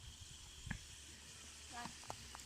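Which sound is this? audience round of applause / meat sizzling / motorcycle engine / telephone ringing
meat sizzling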